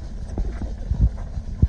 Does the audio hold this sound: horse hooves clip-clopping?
yes